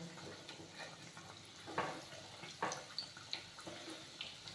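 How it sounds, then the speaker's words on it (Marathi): Bread patties frying in oil in a kadhai, a low steady bubbling sizzle broken by a few sharper splashes and crackles as pieces are turned, fairly close with no voices. "आता हा पॅटीस आपण तळण्यासाठी कढईमध्ये टाकून घेऊया"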